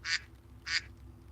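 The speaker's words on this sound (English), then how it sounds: "Get a couple of quacks." A duck gives two short, raspy quacks about half a second apart, fairly close and distinct over a low background hum.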